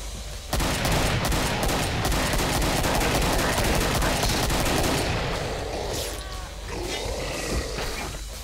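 Chain gun firing in the video game Killing Floor on the Farm map, a loud, continuous rapid burst of shots with a roaring creature mixed in, easing off near the end.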